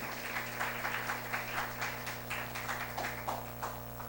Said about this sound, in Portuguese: aplauda ao Senhor, glória a Deus